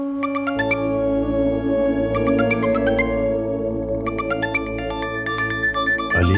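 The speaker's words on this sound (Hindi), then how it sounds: "अली का फोन?" Phone ringtone plays continuously as a melodic electronic tune, loud and sustained across the whole stretch with no talking, set within a dramatic TV scene.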